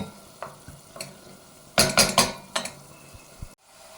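A spoon scrapes and clinks around a pan in short bursts, over a soft, low sizzle of soffritto frying, ending in a sudden quiet.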